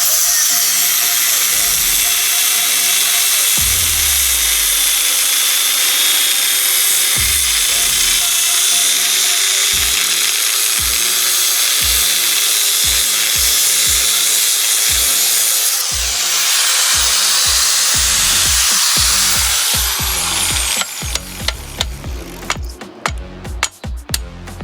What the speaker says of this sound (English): we went ahead and just used the cutoff blades real thin and wore this one out